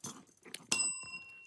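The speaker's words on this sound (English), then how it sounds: "I'm so bad at hitting this bell." A small bell struck once, a bright ringing ding that sustains and fades over the last half second, preceded by short soft thumps and fumbling sounds, no talk.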